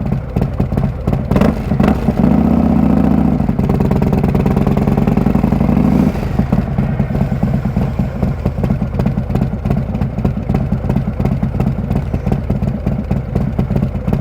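A motorcycle engine on a cold winter ride, a loud steady drone that swells into a strong rev for a few seconds early on, then settles into a rougher running note close by.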